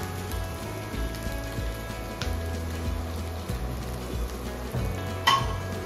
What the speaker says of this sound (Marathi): आता यामध्ये कुस्करलेला बटाटा टाकायचा आहे।